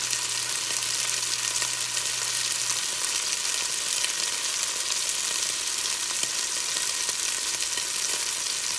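Beef browns in a frying pan with a constant, even sizzle up close, a dense hiss with no talking over it.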